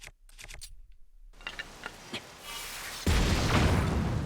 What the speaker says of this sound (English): He has a cannon.